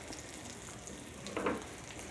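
Parmesan-crusted tilapia fries in butter in a pan over slightly raised heat, giving a soft, steady sizzle with a brief louder crackle midway, close and without talk.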